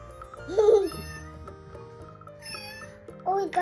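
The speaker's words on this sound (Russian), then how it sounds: "Ой, котенок." A talking Lego Duplo toy cat gives a few short electronic meows, close and clear, with brief pauses between calls.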